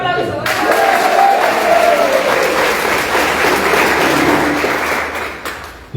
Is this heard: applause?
yes